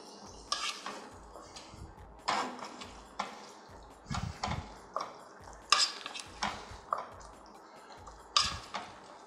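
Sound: stirring pasta with vegetables in a pan

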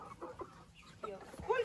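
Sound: chicken clucking

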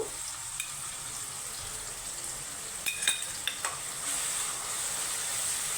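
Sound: frying onion garlic paste with tomato and turmeric

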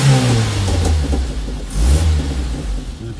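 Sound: motorcycle engine popping on overrun

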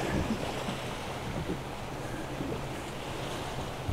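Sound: motorboats starting up in the Danube Delta

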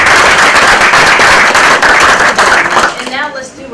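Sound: audience applause

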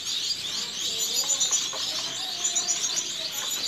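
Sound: Bengalese (society) finches chirping in a breeding setup

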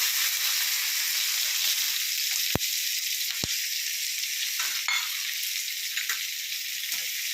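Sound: onions, ginger and green chilies sautéing in pan

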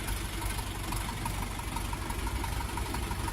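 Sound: tractor diesel engine idling

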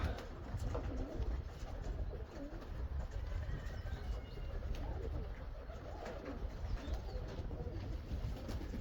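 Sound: pigeons cooing

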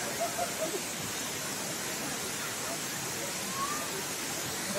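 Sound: waterfall at Curug Cilember, Bogor

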